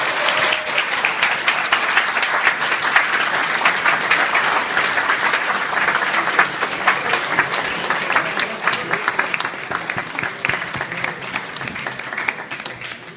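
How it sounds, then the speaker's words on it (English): Sustained applause from a dinner audience honoring award recipients at an anniversary dinner, a dense steady wash of many hands clapping that continues evenly for the whole stretch with no speech. "Please give them all a big round of applause"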